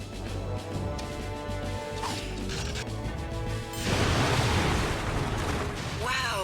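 Explosions, crashes and whooshing blasts from a war tank boss fight in the TimeSplitters first-person shooter game, with a loud burst of noise partway through over a steady mechanical background.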